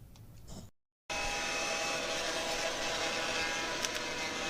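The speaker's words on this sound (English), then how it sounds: "I think I'm going to use a heat gun to get me a bit higher performance here." Heat gun blowing hot air at chips on old circuit cards, a steady broadband rushing hiss that starts abruptly after a brief pause and holds at constant loudness, close and alone.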